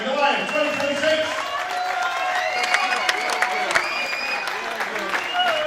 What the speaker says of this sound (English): please, one more last round of applause for the final 9 of Goliath 2026.